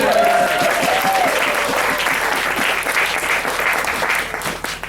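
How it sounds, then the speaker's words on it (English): A wedding crowd claps continuously and loudly throughout, with a few voices faintly audible under the applause. "Let's have another round of applause."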